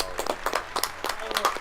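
A short spurt of scattered audience applause at a live E3 Electronic Arts stage show greeting a Madden 18 champion, a few uneven claps and light cheering over a brief moment.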